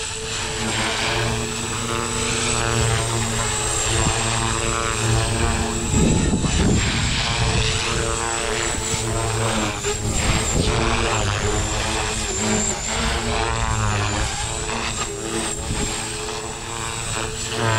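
A Blade Fusion 270 RC helicopter with an AR7210BX flybarless unit hovers nearby, its steady high-pitched rotor and motor whine running continuously and loudly, with the tone wavering slightly as it manoeuvres.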